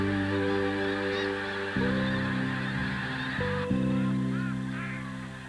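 A flock of migrating wildfowl honks steadily at a South Dakota wildlife refuge stopover, layered overlapping calls continuing throughout at moderate distance, with no voices.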